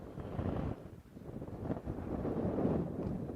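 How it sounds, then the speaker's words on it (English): Strong wind buffets the microphone in loud, rumbling gusts that rise and fall on an afternoon safari at Ngala Private Game Reserve, with no voices. "It's getting super windy out here now"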